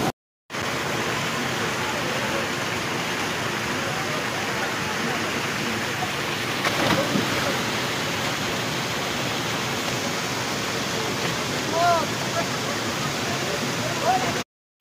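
Steady roaring rush of the Shiv Kola waterfall near Siliguri, a dense continuous wash of falling water filling the whole clip at close range, with faint voices briefly under it.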